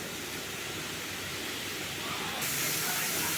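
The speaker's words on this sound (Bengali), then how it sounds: "মশলা ধোয়া জল একটু ভালো করে মশলাটা একটু কষে দিচ্ছি" Spice paste is sautéed in a pan for a vegetarian elephant-foot-yam and paneer dish, giving a steady, dense sizzling hiss that holds even and close throughout and brightens slightly near the end.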